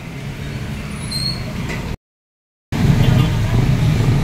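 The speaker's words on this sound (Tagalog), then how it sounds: "sobrang traffic ang kalsada mga gawiks" Heavy road traffic of cars, motorbikes, tricycles and e-bikes passing on a rainy street, a continuous nearby rumble of engines with a high squeak, briefly cut to silence midway before the din resumes.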